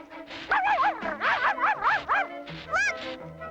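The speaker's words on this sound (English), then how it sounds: "Maybe Puppy can dig them out" A cartoon puppy yips and barks excitedly while digging in snow, a run of rapid high bow-wows and whimpering yelps in two quick bursts, close and loud with no talking over them.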